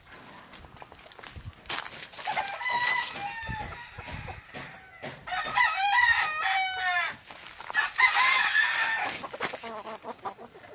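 Chicks and chickens cluck and chatter in a noisy run of repeated calls, close and fairly loud, with some footsteps moving about among the birds.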